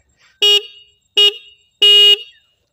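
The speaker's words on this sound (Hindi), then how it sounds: "चलिए हॉर्न का आवाज़ भी एक बार सुन लेते हैं" Three sharp, bright honks from the single horn of a Bajaj Pulsar N150 motorcycle, close and loud, the last one held slightly longer, with silence between.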